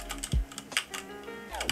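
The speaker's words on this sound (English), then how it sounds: "Trying to play around jitter clicking." Rapid computer mouse clicking during a Minecraft Bridge match, a quick run of light, close clicks over roughly two seconds with no speech.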